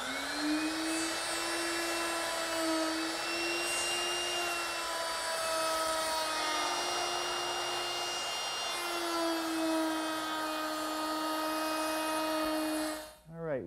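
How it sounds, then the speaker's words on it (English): A router with a quarter-inch Roman ogee bit cutting wood: a steady high whine runs throughout, dipping slightly as it bites into the cut, then spins down abruptly at the end, with no talking. "And I've put it in the router, and because I'm taking off so much wood, I'm going to do it in two passes"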